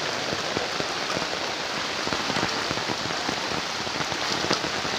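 Steady, dense, heavy rain pattering on a surface in eastern Cirebon, Indonesia, during flooding, constant hiss with close droplet taps throughout and no voices.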